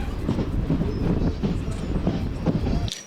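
Passenger train at Akividu railway station on the Narsapur to SMVT Bengaluru run, its carriages rumbling with a steady clickety-clack and wind buffeting close by, continuous and loud before cutting off abruptly near the end.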